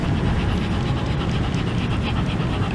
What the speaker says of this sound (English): Listen to that. He's panting because it's so hot.